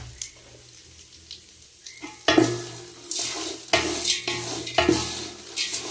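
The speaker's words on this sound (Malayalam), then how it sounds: "ഇതിനെ നമുക്കിനി വറുത്തെടുക്കണം" Hot ghee sizzles and crackles steadily as vermicelli fries in a pan over low heat, with bursts of stirring and scraping recurring every second or so; no one speaks.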